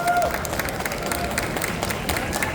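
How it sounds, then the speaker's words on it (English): Audience applause at a Bleach anime voice-actor convention panel, a steady wash of clapping and crowd noise filling the room as cast members walk on stage, with faint voices mixed in. "make sure you guys are clapping when they come up on stage"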